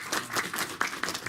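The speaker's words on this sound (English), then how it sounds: "Please welcome him with a warm applause." An audience at a medical lecture on locomotive syndrome claps to welcome the speaker, producing a short burst of scattered, moderately loud hand claps.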